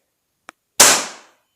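A second air rifle's barrel snaps open with a faint tick followed by a single loud, close metallic clack that rings briefly and fades.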